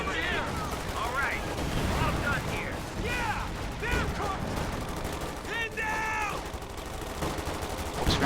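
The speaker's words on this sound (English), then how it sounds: "Wow, there's a lot of machine guns over here, actually." Machine guns chatter in a World War II strategy game battle among paratroopers and Grenadiers, rattling bursts and shots layered densely with battlefield noise, plus brief voice snippets.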